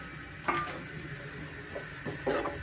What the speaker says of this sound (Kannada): ಅದನ್ನು ಅಷ್ಟೇ ಸೇರಿಸಿ ನಾನು ತುಪ್ಪದಲ್ಲೇ ನಾನು ಫ್ರೈ ಮಾಡ್ಕೊತೀನಿ